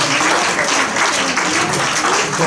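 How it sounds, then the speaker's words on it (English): Steady audience applause at the close of a conference session, a dense unbroken wash of many hands clapping that holds at even loudness throughout. "Let's applaud"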